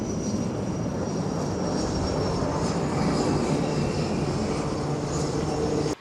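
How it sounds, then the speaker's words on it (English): At the Aero India 2023 air show in Bengaluru, an aircraft flies an extreme tail-up maneuver. Its engine makes a continuous broad roar that stays steady and fairly loud throughout, with no voices over it. "Here they go and perform the extreme tail-up maneuver."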